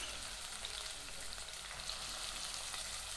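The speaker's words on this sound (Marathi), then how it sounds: "2 वाटी जवळपास मी इथे शिमला मिरची घेतलेली आहे आणि 1 वाटी कांदा. या परतवून घेणार आहोत आपण इथे." Chopped capsicum and onion sizzle in melted butter in a pan for pav bhaji, making a steady, moderately quiet frying hiss with no voices.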